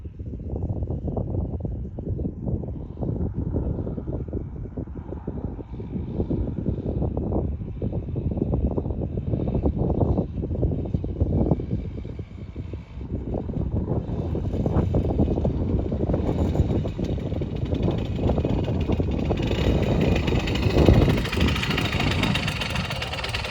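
A Simson S51 moped engine, about 42 years old and not yet fully run in, runs steadily with a low, continuous putter and some wind buffeting at the microphone, loud and close for the whole stretch.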